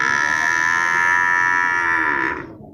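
A cow, likely an Aceh breed female, moos once at the Geurugok livestock market, a loud, close, drawn-out low call that fades abruptly at the end.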